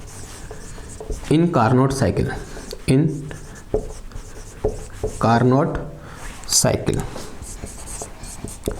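Chalk or marker scratches and taps on a board in short strokes during a physics lecture on the Carnot cycle, heard under and between a man's speech.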